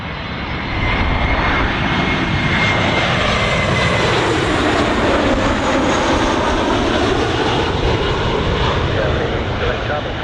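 An aircraft landing on runway 15 at Birmingham Airport, its engine roar loud and steady throughout with a broad sweeping rumble, as if passing close by.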